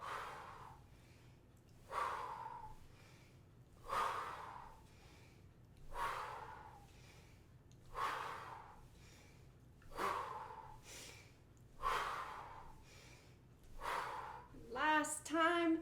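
Slow, deep breaths during a qigong exercise, a steady airy rush recurring about every two seconds, close and alone, ending in a few quicker breaths.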